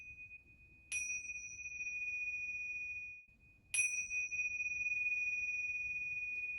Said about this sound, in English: I then will chime 3 times.